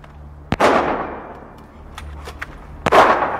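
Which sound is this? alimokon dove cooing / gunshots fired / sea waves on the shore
gunshots fired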